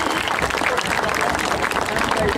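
An audience at a high school dedication ceremony claps steadily, a dense wash of applause mixed with crowd murmur throughout.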